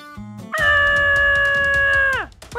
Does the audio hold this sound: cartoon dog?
yes